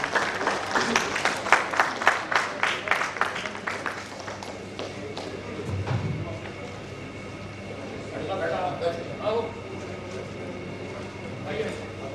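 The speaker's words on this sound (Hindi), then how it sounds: "तालियां बजा करके एक बार अभिनंदन करिए।" Scattered audience applause at a small and medium business event greets the chief guest arriving on stage, loud at first then thinning out, followed by people talking.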